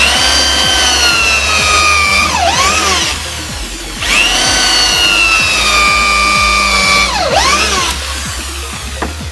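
A power drill bores holes into new wooden planks for a five-meter fishing boat, two long loud whining runs with pitch dips as the bit bites, close and without talk.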